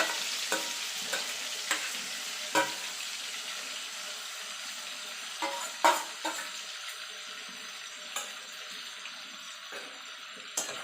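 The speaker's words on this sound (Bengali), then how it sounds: "এবার কচু পাতাটাকে মিনিট 2 ধরে একটুখানি তেলের মধ্যে তেলে নেব।" Taro leaves hit a little hot oil in a pan for prawn curry, giving a soft steady sizzle with scattered spatula scrapes and clicks throughout, no voices.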